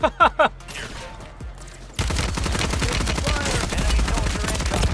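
Rapid automatic gunfire from the video game Warzone crackles in a dense, continuous burst. Before it come a few sharp isolated shots and quieter clicks.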